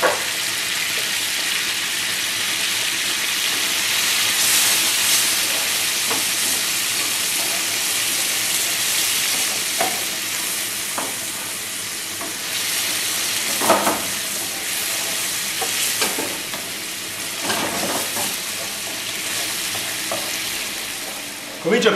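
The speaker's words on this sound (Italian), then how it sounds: "Aggiungo la polpa di pomodoro." Tomato pulp hits a pan of sizzling sauce, giving a steady loud frying hiss with bursts of stirring and bubbling, no voices over it.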